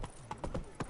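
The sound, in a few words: horse Roach galloping, clip-clop hooves in The Witcher 3 video game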